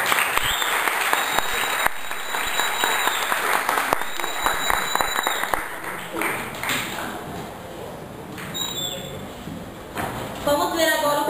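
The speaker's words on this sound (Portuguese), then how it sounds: "Receba agora as palmas do nosso querido auditório." Studio audience applauding on a news-style television programme, dense clapping that fades away, while a presenter talks and electronic tones ping over the top.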